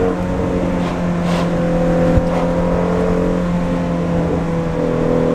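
A Shelby GT350 engine drones steadily from inside the car on a drive in Mexico, a loud sustained hum with strong low harmonics and mild rises as it accelerates, with no talking.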